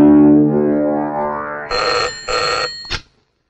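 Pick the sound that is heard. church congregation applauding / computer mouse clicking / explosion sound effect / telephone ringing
telephone ringing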